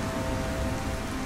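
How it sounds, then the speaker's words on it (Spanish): Steady, dense rain fills the game Nioh as a loud, even hiss of falling drops with no break and no voices. "efectos de lluvia están bastante altos, ¿eh?"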